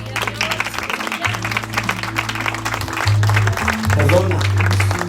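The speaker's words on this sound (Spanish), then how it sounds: "Denle un aplauso al Señor." A church congregation applauding after a sermon on forgiveness, continuous rhythmic clapping over a sustained organ or keyboard chord, with voices mixed in.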